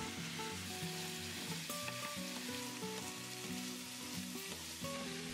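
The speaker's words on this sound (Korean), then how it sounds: "꽈리고추에 양념을 묻힌다는 느낌으로 50초 정도 짧게 볶아준 뒤 볶아놓은 두부를 넣고" Tofu and shishito peppers stir-fry in a seasoning sauce, giving a continuous dense sizzle with faint utensil scraping, close and even throughout, no voices.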